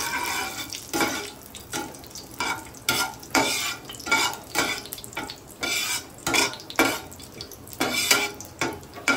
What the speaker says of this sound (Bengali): এগুলি ভালো করে একটু নাড়িয়ে নিচ্ছি